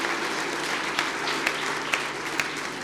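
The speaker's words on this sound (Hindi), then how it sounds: "सारी बरादरियों के लिए भरपूर तालियां बजाइएगा" A church congregation claps together in steady, full applause, an even wash of many hands with a few louder individual claps standing out at regular moments.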